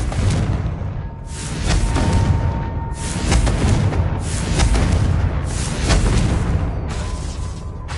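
Fiery spell blasts from the Confringo curse in a Harry Potter video game, a run of loud booming bursts about every second, each with a crackling explosive tail, alone without voices.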